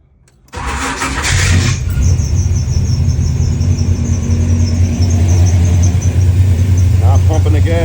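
A Chevelle with an upgraded fuel pump starts with a sharp burst, then settles into a steady, loud, close idle rumble with a faint whine above it.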